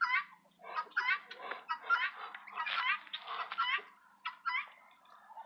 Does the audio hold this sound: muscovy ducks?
yes